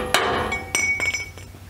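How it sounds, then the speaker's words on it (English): A steel chisel hammered against brackets on an S10 truck frame gives sharp metallic clanks: a strong hit, a second blow, then a few lighter ringing taps close by. "So then you just take your chisel again, start working."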